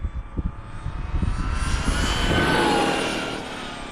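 A Traxxas XRT 8S RC truck on Pro-Line Menace tires whines past at speed, its electric motor rising to a loud, close peak and then fading as it moves away, with no talk.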